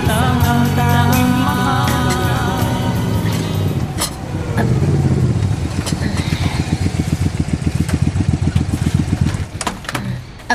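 An uncle's motorcycle engine runs steadily at close range, a low throbbing rumble that turns into rapid pulsing putters in the second half, with faint voices in the background.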